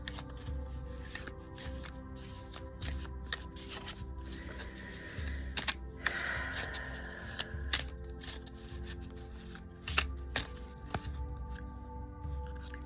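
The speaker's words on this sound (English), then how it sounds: "I don't know how I'm going to shuffle these cards around the candles" Playing cards are shuffled with repeated riffles and soft flicks, close by, in an irregular rhythm that runs for several seconds with no talk.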